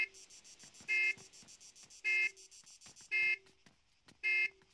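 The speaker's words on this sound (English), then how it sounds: "Yeah, stop beeping, Dimitri!" A car alarm sounds in a steady cycle of loud, piercing tonal blasts, four in all, spaced about a second apart with quieter chirps and clicks between them.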